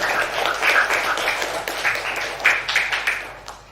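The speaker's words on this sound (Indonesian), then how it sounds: "Tepuk tangan dulu buat kalian." Classroom of students clapping together, a dense patter of many hands with a few sharper claps standing out, moderately loud and fading toward the end.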